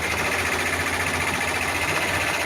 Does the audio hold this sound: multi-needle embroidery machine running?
yes